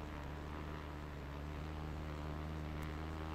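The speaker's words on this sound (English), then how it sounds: "Sounds like a radio-controlled gas plane." Aircraft engine in a flight simulator game, with a buzzy, small gas-engine drone like a radio-controlled plane, a steady, even tone throughout, faint and without talk.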